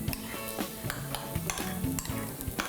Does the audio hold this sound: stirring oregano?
yes